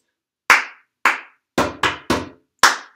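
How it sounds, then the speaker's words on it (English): Six sharp percussive hits in a cup game rhythm, close and loud, mixing bright hand claps with fuller, lower tabletop taps, spaced about half a second apart with brief gaps between. "Clap, clap, tabletop, clap."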